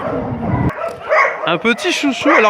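A Chow Chow at an animal shelter gives a run of short yips and barks, close by, while a person talks over them.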